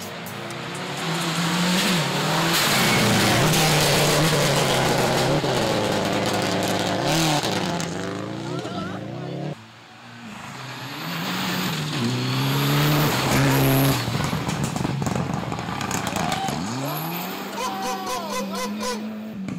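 Rally car on a stage in Jamaica, engine revving hard through repeated gear changes and rising and falling pitch sweeps, with tire noise, loud and close throughout.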